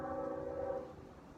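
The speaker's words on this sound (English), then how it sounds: "I'm being brought aware to the choo-choo train behind me and hearing the sound" Train passing outdoors, a sustained horn tone sounding for most of a second over a low rumbling rail noise that fades as the horn stops, moderately distant, no speech over it.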